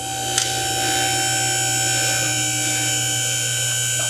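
A Flexmetric two-post 10,000 lb lift raising a Corvette, a steady electric motor whine with a constant hum and a brief clack near the start, moderately loud and unaccompanied by voices.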